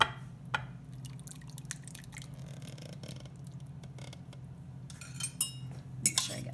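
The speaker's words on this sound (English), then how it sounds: "Now I am just going to pour it on top" An egg, milk and cheese custard is poured over bread in a dish, with soft trickling drips and a few faint clinks of a utensil against the bowl under a quiet background hum.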